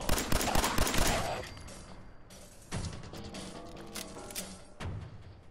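Gunfire in the video game Fallout 4, a burst of rapid, loud shots at the start followed by quieter single reports and mechanical clatter, with scattered game sound effects between them.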